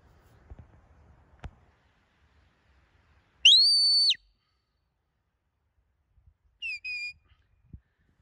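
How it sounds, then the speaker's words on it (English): A shepherd's away whistle commands a herding sheepdog working rams on a small course: one long, loud, sharp rising-and-falling whistle, then a shorter double whistle a few seconds later, with quiet outdoor surroundings between. "Send Storm out on the away whistle"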